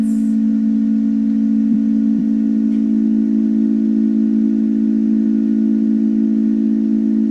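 A steady, loud low pure tone at 55 hertz, played for cymatics to set water resonating, holds unbroken throughout with a faint hiss above it and no talking.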